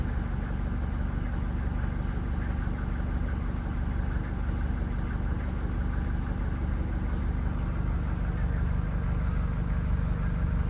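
An old Mercedes 307D diesel van idling after a cold start with no choke, a steady, even low rumble and clatter that holds unchanged throughout.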